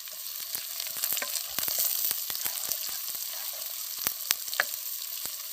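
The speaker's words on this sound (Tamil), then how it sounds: "வெங்காயம் நல்லா வதங்கட்டும்." Small shallots, with curry leaves and whole spices, fry in hot oil, giving a steady close crackling sizzle broken by sharp spits and a few stirring scrapes, with no voices.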